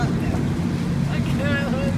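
An amphibious duck tour vehicle, an army truck chassis with a welded boat hull, drives its propeller through the water in Boston, giving a steady low engine rumble and wash with wind noise and a voice talking over it.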